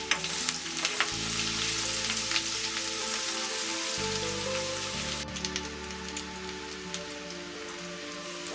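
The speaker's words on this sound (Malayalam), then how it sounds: "ഇനി ഇതിൻ്റെ ഒരു പച്ചമണം മാറുന്നത് വരെ നമുക്ക് നന്നായിട്ടൊന്ന് വഴറ്റി കൊടുക്കാം" Ginger and garlic sautéing in a pan, a dense steady sizzle like rain with occasional stirring clicks, a low background hum starting and stopping, no talk.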